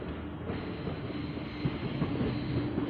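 A train runs past steadily with a continuous broad rumble and low rolling rattle at moderate, even loudness, no voices.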